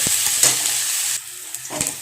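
Chopped onions sizzle softly in oil as they brown for a gravy, a faint hiss with a few stirring knocks, dropping quieter midway before a last scrape.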